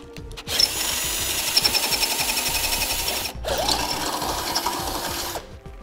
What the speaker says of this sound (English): we want to take a drill bit, refer to your instructions, it'll tell you the size, and we're going to cut this out.